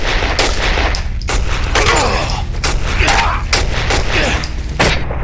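Enemy rifle fire in Condemned: Criminal Origins, a loud, rapid string of gunshots cracking in quick succession over a dense, rumbling background, close and nearly continuous.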